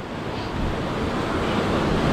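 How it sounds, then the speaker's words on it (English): Heavy ocean surf crashes steadily onto a rocky sea glass beach near a sea cave, a loud, continuous roar with wind buffeting the microphone and no voices. "See, the waves are really kicking right now."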